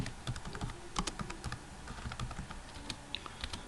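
Rapid, close typing on a computer keyboard while writing program code, dense clicking keystrokes in an uneven run with a few louder taps, no speech.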